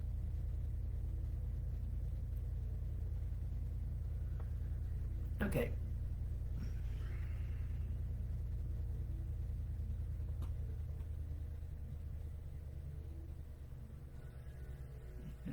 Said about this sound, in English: Grandson started his truck.